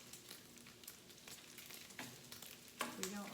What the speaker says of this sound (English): It's a serious thing frying the bacon around here.